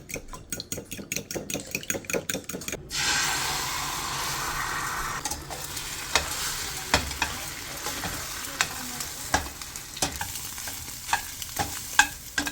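Plantains frying in a pan in a home kitchen, starting with a rapid run of rhythmic clatter, then a broad steady sizzle with scattered utensil clinks and taps, close by.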